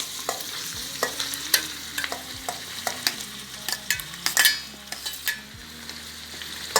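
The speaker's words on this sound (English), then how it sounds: "we're going to add in our meat and mix it together" Meat being stirred and fried in a pot while making Nigerian meat pie, with repeated scraping stir strokes over a low sizzle, close and moderately loud, no talking.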